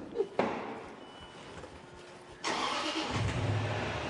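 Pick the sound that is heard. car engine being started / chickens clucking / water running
car engine being started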